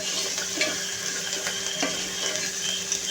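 Ginger garlic paste frying in hot oil sizzles and crackles steadily, with occasional stirring clinks, close and fairly loud, no voices.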